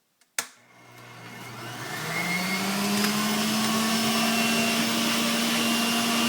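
An electric juicer motor starts with a sharp click and spins up into a loud, steady whine and hum as bunched greens are pushed through, running continuously without any voices.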